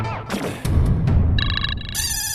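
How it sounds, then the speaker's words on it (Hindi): A phone rings with an incoming call, a bright electronic ringtone starting partway through after background room noise, its tones repeating and climbing in pitch. "फिर से पार्टी का फोन आ गया"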